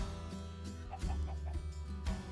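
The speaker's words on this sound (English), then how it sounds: "Ah, here we are, chicken, right." A Minecraft chicken clucking on a Minecolonies farm, short repeated clucks over a steady background drone.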